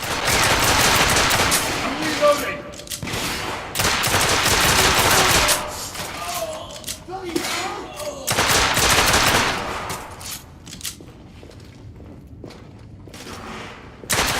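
Gunfire in the video game The Order: 1886 comes in long, loud automatic bursts of rapid shots, broken by short gaps and quieter stretches of game sound.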